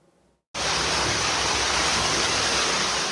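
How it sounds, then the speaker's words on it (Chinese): Firefighters' hose jets pour water down into a fire-gutted high-rise like a waterfall. The roar starts abruptly after a short quiet moment and then holds as a loud, steady, broadband rush. "灌入水柱有如瀑布"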